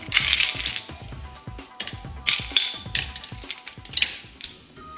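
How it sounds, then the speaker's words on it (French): Ice cubes dropped into plastic cups holding tapioca pearls while making bubble tea, landing as a quick series of sharp clinking knocks and rattles, close and fairly loud, with no talking. "Ajoutez les glaçons."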